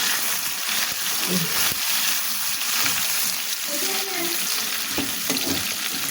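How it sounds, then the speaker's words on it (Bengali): Onion and garlic fry lightly in a pan, a steady broadband sizzle running throughout with occasional stirring scrapes and faint background voices or clatter. "এবার পেঁয়াজ আর এই যে পেঁয়াজ রসুন এখানে আমি হালকা করে ভেজে নিচ্ছি"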